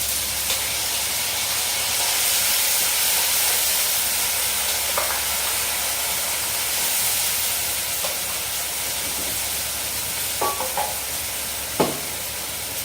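Ground spice paste of ginger, green chilli and onion hits browned onions frying in oil for kabuli chana, producing a steady loud sizzle and hiss with a few sharp scrapes and taps near the end.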